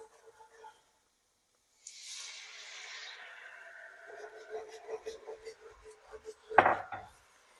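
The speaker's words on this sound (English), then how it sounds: "this will deglaze the pan" Half a cup of white wine poured into a hot pan with browned bits stuck to the bottom bursts into a loud sizzling hiss that slowly fades, followed by utensil scraping and clinks against the pan.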